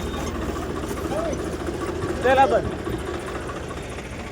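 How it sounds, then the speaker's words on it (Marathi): A tractor engine drones steadily at low pitch as the tractor reverses uphill at a village fair, with a brief rise in the middle. People talk over the engine noise. "तर भावांनो बघा ट्रॅक्टर इथं मागे रिवर्स येतंय"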